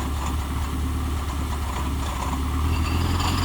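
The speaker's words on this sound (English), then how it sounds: "I'm gonna turn the pump on." A 2004 Mayco concrete pump's engine runs close by with a loud, steady low drone, its pitch and loudness swelling slightly toward the end as the revs climb.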